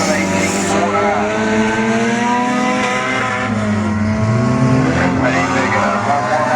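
A car on the Beckley Motor Speedway oval during Enduro 100 qualifying laps with a steady, loud engine drone and shifting pitch as it circles, continuous throughout.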